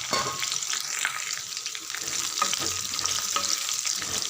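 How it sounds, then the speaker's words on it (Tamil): Okra sautés in hot oil with a close, crackling sizzle, and the spoon scrapes and stirs through it now and then in an uneven rhythm, with no talking. "நல்லா வெண்டைக்காய் ஒரு அஞ்சு நிமிஷம் நல்லா வதங்கிட்டோம்"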